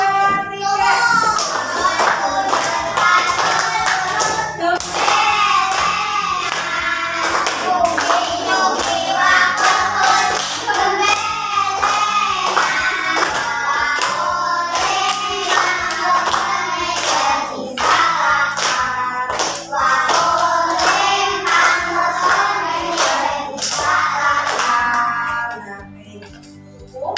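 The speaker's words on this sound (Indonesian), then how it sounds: "Kita hitung sambil tepuk tangan ya." A classroom of children sings the Javanese folk song Gundul Pacul together, loud and continuous, with steady rhythmic hand claps keeping the beat throughout the song until it fades at the end.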